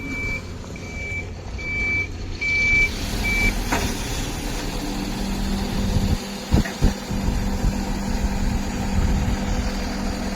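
A truck backing up to unload at the NH66 highway works sounds a short run of regular reversing beeps, then its engine idles and rumbles on with a couple of sharp clanks and knocks.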